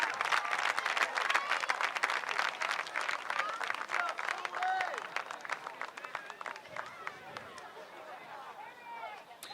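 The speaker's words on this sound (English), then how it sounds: "Nice round of applause for the seniors." Crowd at a high school boys soccer game applauding seniors as they leave the field, sustained clapping from many spectators with cheers and chatter mixed in.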